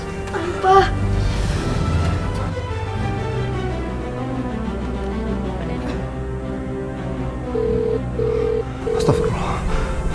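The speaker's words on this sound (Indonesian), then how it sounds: "Saya akan hubungi Pak Dani" A phone being dialed during a call in an Indonesian TV drama: short repeated electronic tones near the end, over steady low background music and noise, with no voices.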